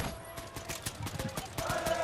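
Scattered bursts of gunfire from a distant off-spawn battle in Fortnite at the FNCS 2023 Global Championship Grand Finals, a rapid irregular run of shots heard faintly at range with a game tone in the background.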